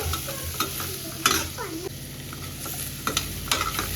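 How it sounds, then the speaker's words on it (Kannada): Onions frying in oil in a pan hiss and sizzle close up while a spatula scrapes and clatters against the pan in repeated strokes. "ಆಯಿಲೆಲ್ಲ ಚೆನ್ನಾಗಿ ಫ್ರೈ ಆಗಬೇಕು ಆಯಿಲಲ್ಲಿ ಈರುಳ್ಳಿ ಗೋಲ್ಡನ್ ಬ್ರೌನ್ ಆಗೋ ತನಕ ಹುಡ್ಕೋಬೇಕು"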